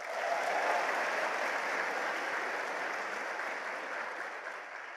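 An audience at an indoor seminar event in Indonesia applauds in a sustained, dense wash of clapping that holds steady and slowly fades over several seconds, with no talk over it.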